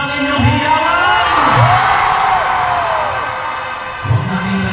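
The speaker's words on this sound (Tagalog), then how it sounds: "Lakasan niyo naman po ang inyong hiyawan." A large stadium crowd roars, cheering, whooping and shouting in a loud, sustained swell, with a few louder yells rising out of it near the end.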